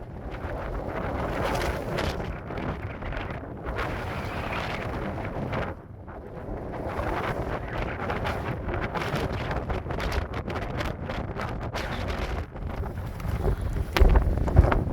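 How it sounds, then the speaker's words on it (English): Strong gusting wind buffets the microphone on an exposed mountain ridge of the Dômes de Miage, a loud, roaring rush that dips briefly and surges again, with no voices. "We're literally in a spot now where the wind is a little bit more secluded."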